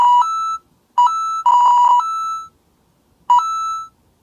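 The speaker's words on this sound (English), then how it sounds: "That kind of sounds like the Mario coin." Bright synthesized beeps from rFX Gen come in short bursts: two quick blips, a fluttery warbling tone, then one more blip after a pause, each with a sharp two-step pitch like the Mario coin chime.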